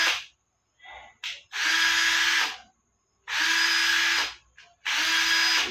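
A cordless battery-powered drill runs at about 1500 RPM in three loud, steady whirring bursts, each lasting over a second and separated by short pauses with brief trigger blips between them.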